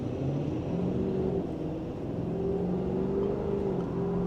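A Ford F-250 Super Duty engine in derate, revved hard at full throttle, holds a steady droning roar with rising and falling tones inside the cab, loud and continuous with no speech.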